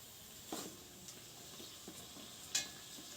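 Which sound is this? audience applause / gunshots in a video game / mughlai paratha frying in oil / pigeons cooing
mughlai paratha frying in oil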